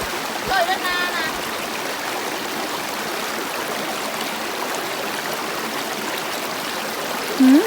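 A creek flows steadily beside an outdoor riverside meal in the Laos–Thailand area: a continuous broadband rush of water runs throughout, with faint voices briefly heard near the start and the end.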